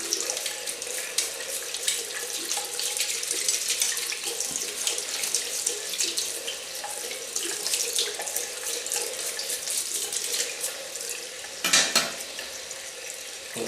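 A steady stream from a running tap splashes as a razor is rinsed beneath it, with occasional louder gushes and clinks as it is moved under the water.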